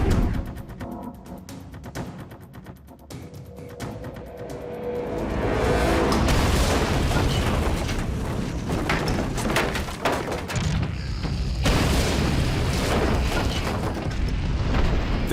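A fertilizer shed blowing up in the House of Hazards video game: a deep, heavy boom swells and rolls on, with sustained loud rumbling and debris-like crackle lasting several seconds, no speech.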